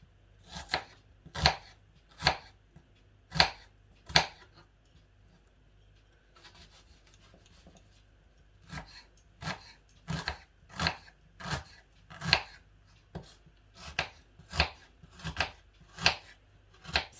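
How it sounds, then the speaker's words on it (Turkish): A knife chops onions on a board in crisp, evenly spaced strokes, a short run, a brief pause, then a longer steady series of cuts. "şimdi ilk başta soğanlarımı yemeklik doğrayacağım"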